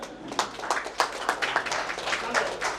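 An audience at a hospital event in Naugachiya applauding steadily, with many scattered claps blending into moderate applause at a middle distance.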